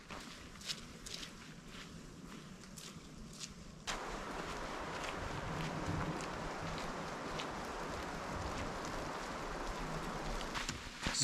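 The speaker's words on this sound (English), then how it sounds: "just walking in the rain here. A light rain." Light rain falls through trees while a hiker walks on a trail, with steady footsteps crunching close by under a continuous soft patter that thickens partway through.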